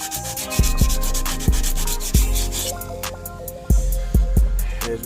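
Sanding body filler by hand while shaving the engine bay of a Honda Civic, a steady rasping rub that sweeps back and forth up close, broken by a few sharp knocks and thumps.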